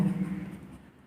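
Chalk or marker scratching on a board during a lesson, a short close scrape that fades within about a second.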